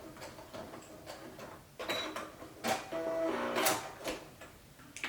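Sewing machine back stitching a hand warmer fabric pouch, a soft rapid mechanical ticking and whirring with brief louder bursts, close and fairly quiet with no talking.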